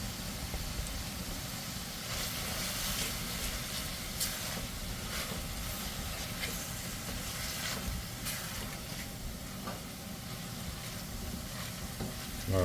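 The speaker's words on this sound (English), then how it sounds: "I'm gonna add the onion in here," Onion cooking down in a pan with a little kosher salt, giving a steady, even sizzle with faint crackles and stirring scrapes throughout, no talk over it.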